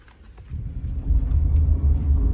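A car arriving, its low engine rumble swelling from faint to close and loud over a couple of seconds.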